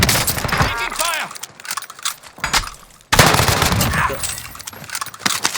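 Bursts of automatic gunfire in a multiplayer shooter video game, loud cracking volleys that break off and resume, heard alongside players talking over voice chat.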